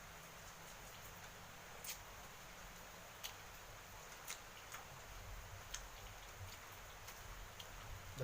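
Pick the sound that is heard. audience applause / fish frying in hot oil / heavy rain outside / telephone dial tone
heavy rain outside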